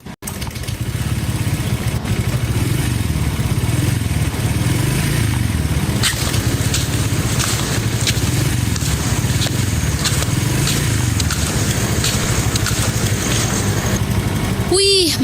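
A motorcycle engine in a TV advert, idling and revving loudly up close with rattling mechanical clatter and a scraping burst near the end.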